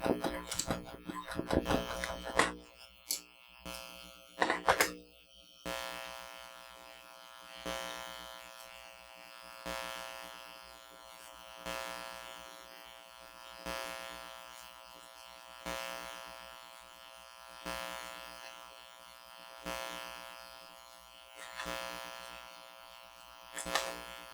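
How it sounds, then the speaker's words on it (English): A sewing machine top-stitches raffia at an eighth of an inch. After some brief handling clatter, it whirs in regular, repeating surges about every two seconds, moderately quiet and close. "I'm doing a top stitch on both, on all of these at 1/8 of an inch."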